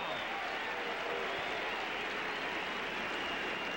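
Steady applause fills a tennis stadium at Indian Wells in 2001 during a Sampras–Rafter quarterfinal, an even, rain-like patter of clapping at moderate distance with faint voices underneath.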